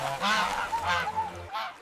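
Wild geese call out in a marsh, a quick run of three or four nasal honks sounding close and clear with short gaps between them.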